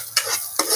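Onion sautéing in the same pan gives a close, bright hiss, with two quick stirring swishes that make the sizzle surge.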